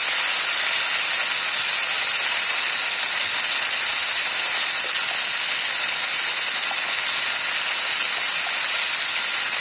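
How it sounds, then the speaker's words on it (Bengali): Potatoes fry in a little oil with salt and turmeric, producing a continuous, even hiss of sizzling that stays loud and steady with no talking. "প্রথমে আলুটা দিয়ে দিলাম, আলুটা ভেজে নেব অল্প লবণ হলুদ দিয়ে।"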